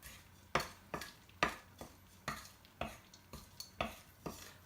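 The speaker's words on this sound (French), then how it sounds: "Et premier, je utilisais piment sec et sauté dans la huile." Dried chili peppers being sautéed in oil over low heat, with a series of sharp clinks and scrapes, about one per half second, as a utensil stirs the pan above a faint sizzle.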